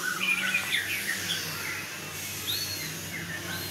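Several white-rumped shamas chirp and whistle in short high phrases at a songbird hanging area, over a steady background hum, with a busy crowd-like murmur underneath.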